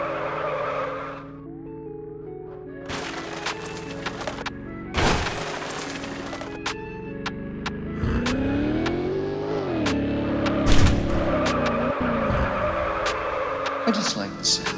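Tow truck engine in the MadOut2 video game revving and surging with skidding tire noise, loud and continuous with engine pitch rising and falling, mixed with someone talking over the game sounds.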